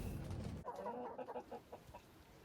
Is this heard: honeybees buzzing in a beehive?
no